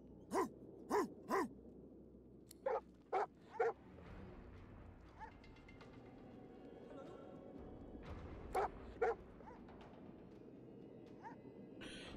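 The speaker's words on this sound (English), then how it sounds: "Bruno barks, beside himself with joy" Dog barking in the video game Divinity Original Sin 2, excited and joyful, in short bursts of several yips and barks at intervals over steady background game ambience.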